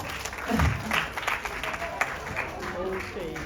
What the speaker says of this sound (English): So I want you guys to give him a big round of applause.